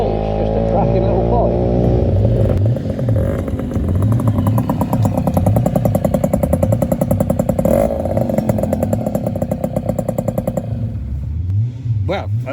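A Yamaha YB1 50cc classic motorcycle is ridden with a close, buzzy two-stroke-style engine note that rises and falls rhythmically through gear changes, with wind noise throughout.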